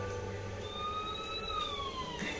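A distant ambulance siren wails in long, rising and falling tones over a low hum of background noise in Aizawl, India.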